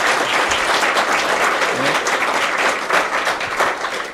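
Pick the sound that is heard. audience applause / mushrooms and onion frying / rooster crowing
audience applause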